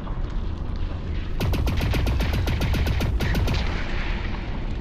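Sustained weapon fire against a tick creature in the VR game Lone Echo 2: a rapid, evenly spaced burst of sharp shots rattling for about two seconds over a steady low hum, then trailing off.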